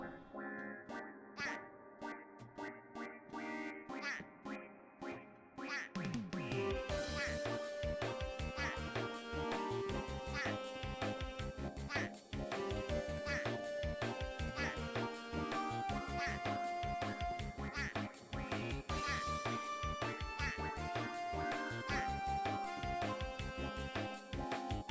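Cartoonish duck quacks from a video game called project_structure_01 ride on a steady electronic beat, a dubstep-style track with repeated synth hits and honks running continuously and loud, with a quieter stretch at the start.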